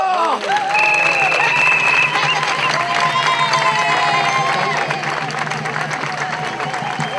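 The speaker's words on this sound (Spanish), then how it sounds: "Bienvenidos a Feira das Maravillas, edición número 30. ¡Fuerte aplauso!" Loud, dense applause and cheering from a large crowd fill the opening ceremony of the 30th Feira das Maravillas fair in A Coruña, with shouts and a brief whistle-like tone near the start, sustained throughout and slowly easing.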